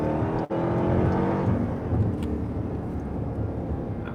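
2021 Dodge Durango SRT Hellcat accelerating hard, a steady loud engine roar and whine heard from inside the cabin, with a brief dip near the start before the sustained pull continues.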